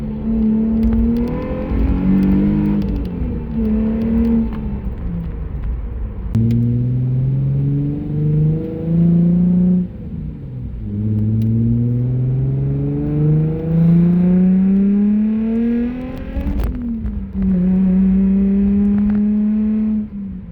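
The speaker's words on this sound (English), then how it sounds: "in the muffler, you're actually able to install a silencer, which obviously restricts the airflow, but it also restricts the sound" Nissan 350Z exhaust fitted with a muffler and silencer while driving on the street: a steady engine drone rises and falls through several smooth revving pulls and shifts, fairly loud and up close, with no talk.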